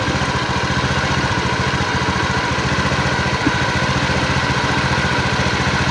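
A Honda Beat fuel-injected motorcycle engine idles steadily after an oil change, a rough, even chugging that stays loud and constant throughout with no voices.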